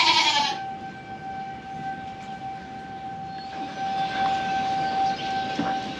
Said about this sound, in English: our tornado warning is up, but they're still running the siren